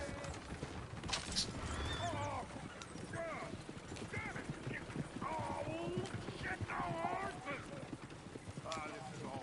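Horse hooves clip-clop steadily alongside repeated whinnies and neighs in a Red Dead Redemption frontier settlement, with characters talking over the busy western scene.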